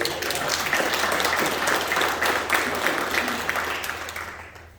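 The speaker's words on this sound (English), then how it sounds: "I think we should give her a round of applause today" Attendees at a public school board meeting break into a round of applause, many hands clapping densely and evenly before the sound tapers off near the end.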